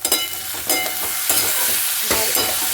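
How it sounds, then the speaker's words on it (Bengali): Flat beans coated in ground coriander, Kashmiri red chili and slit green chilies sizzle in a hot pan as a spoon scrapes and stirs them in several rhythmic strokes, close and loud with no talking. "একটু নাড়িয়ে দেবো।"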